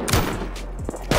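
Gunfire aimed at a wall during an online raid in the survival game Rust: a few short, sharp bursts, one near the start, one in the middle and one at the end, over a steady noisy background.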